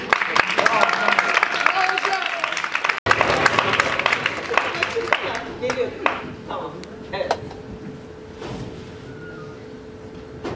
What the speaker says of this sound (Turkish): Bu alkışlar neşenize,